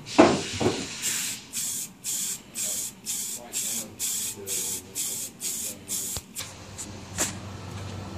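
A hydraulic drive cylinder head is spray painted in a series of short hissing bursts, about a dozen evenly spaced sprays with brief gaps, close and fairly loud, with a couple of faint knocks between.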